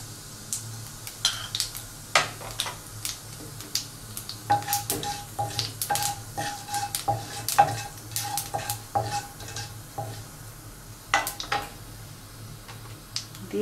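Black cumin (kalo jeera) seeds sizzling in about two tablespoons of hot oil in a wok, with a light crackle and repeated sharp pops and stirring scrapes, close up and without talk.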